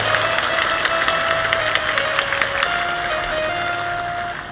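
Loud, steady applause and cheering from a large crowd at a spiritual discourse gathering, dense clapping sustained throughout with a held tone running underneath.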